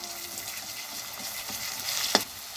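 Garlic paste frying in hot oil with chopped onions and whole garam masala, a continuous close sizzle with soft stirring and a sharp utensil tap near the end.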